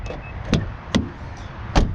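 Door handle and latch on a 2022 Mazda 3 Turbo AWD hatchback, with three sharp, close clicks and clunks spread over two seconds against a quiet background.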